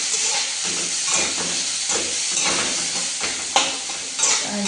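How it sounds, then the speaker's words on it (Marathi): Food sizzles and fries steadily in a hot pan, with a continuous bright crackle and occasional stirring scrapes close by, heard alone in a home kitchen while onions are roasted. "भाजायला चालू"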